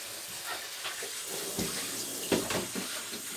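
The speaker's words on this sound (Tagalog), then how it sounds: "Kailangan dagdagan natin ng tubig." Water pours steadily into a cooking pot for tilapia sinigang, a continuous hissing splash with a few louder splashes partway through, close by and with no speech.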